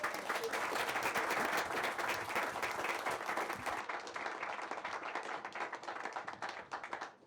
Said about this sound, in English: please give me a warm Gaithersburg Book Festival welcome for my crying buddy, Will Jawando.